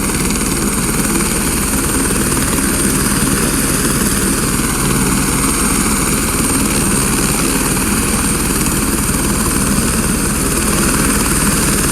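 A rescue helicopter lifting off after recovering a hang glider from wreckage, its rotor and turbine making a loud, continuous beating roar with rotor wash that holds steady and close throughout.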